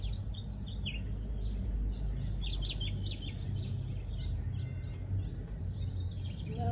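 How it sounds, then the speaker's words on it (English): Birds chirp outdoors during a sunny open-air yoga session, with several bright, quick calls scattered through a steady background hiss and no talking. "Maybe you can hear some birds chirping,"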